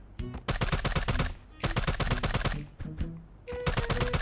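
Gunfire in the video game Sausage Man comes as three loud bursts of rapid automatic shots, separated by short pauses.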